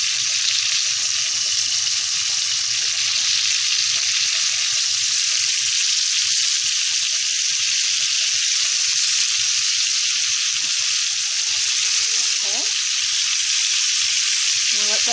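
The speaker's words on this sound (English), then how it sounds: "cook the scallops real quick" Scallops sear in a hot pan with a loud, steady, close sizzle that never lets up, plus a few faint clinks and scrapes near the end.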